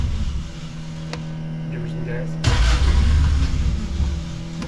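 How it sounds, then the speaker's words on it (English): A 1959 Austin Healey Sprite engine turning over on the starter, a low steady drone that jumps into a louder, rougher rumble partway through, with people talking over it. "That's the starter."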